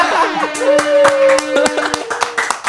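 Hands clapping at the close of an Indonesian podcast episode, a scattered run of sharp claps mixed with talk and a sustained tone.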